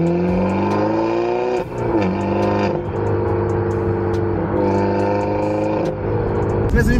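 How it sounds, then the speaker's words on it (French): Peugeot RCZ R sports car engine pulling through a short acceleration from inside the cabin, a steady rising drone with a gear-change dip partway, loud and continuous with faint talk underneath. "Là, vous avez une petite accélération."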